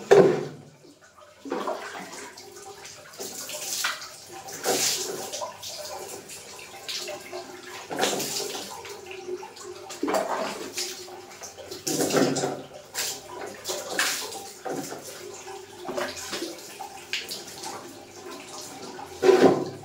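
Water is poured repeatedly while someone bathes in a bathroom, with splashing bursts landing every second or two, close and moderately loud, with dripping in between.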